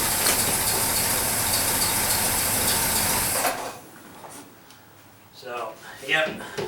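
A 1964 Oldsmobile 98 engine, just fitted with a swapped carburetor, runs in a loud, steady rumble for about three and a half seconds and then abruptly cuts out, after which someone talks.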